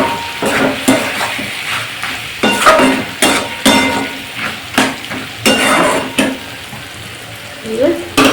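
Chicken pieces fry in oil with ginger-garlic paste, giving a loud, steady sizzle broken by rhythmic scraping and stirring strokes against the pan, with occasional metal clinks close by.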